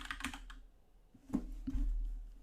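Keys clack on a computer keyboard while code is typed, a few quick close taps, a pause, then firmer separate presses, with no voice.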